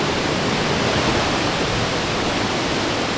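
Thoseghar waterfall in Satara, a loud, dense, unbroken roar of falling water close by, filling the whole clip with no voices.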